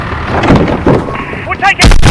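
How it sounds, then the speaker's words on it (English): An explosion in Call of Duty: Modern Warfare on PS4, a loud, heavy blast with booming bursts and rumbling impacts crowding into just over two seconds, close and forceful, with game radio chatter around it. "All units responding to the explosion in Leicester Square."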